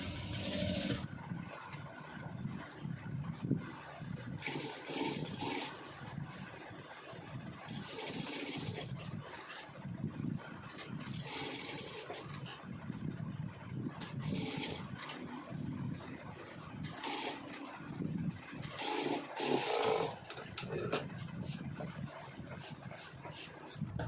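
A sewing machine runs in long, steady bursts of mechanical whirring as it stitches contrast piping onto fabric, close and continuous with brief pauses, and no speech.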